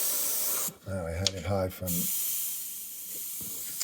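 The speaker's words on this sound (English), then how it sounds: "I'm going to spray it a little" An airbrush sprays Createx Illustration Colors paint onto Blair synthetic paper in a soft, steady hiss that stops while someone speaks briefly, then resumes.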